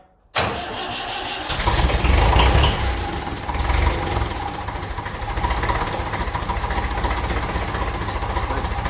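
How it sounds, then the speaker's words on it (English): A 1955 Ferguson 20 TEF diesel tractor engine, running without its air filter, starts abruptly and settles into a loud, steady running rumble with a rough, breathy intake-suction rasp, close by and continuous. "Doesn't have the air filter on it, so you can hear a lot of kind of suction sound."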